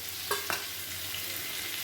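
Green banana and eggplant pieces fry lightly in a pan, a soft, low sizzle with a couple of quick utensil knocks from stirring early on.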